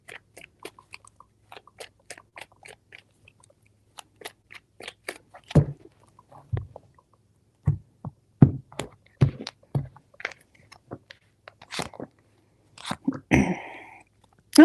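Tarot cards are shuffled three times in short, irregular bursts of crisp slaps, riffles and taps, close and fairly loud against silence, with one longer riffling rush near the end.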